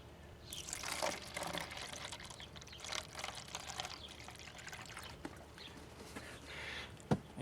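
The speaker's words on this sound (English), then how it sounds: "we're going to take some coolant and we're going to dump it in here" Coolant pours into a car's cooling system during a water pump job, a soft irregular gurgling trickle with splashy bursts, fairly quiet, ending in a sharp knock.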